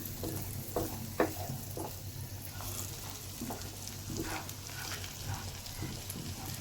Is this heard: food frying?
yes